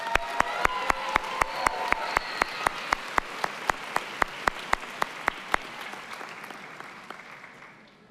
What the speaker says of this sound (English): Please join me in a round of applause for Executive and Master of Health Administration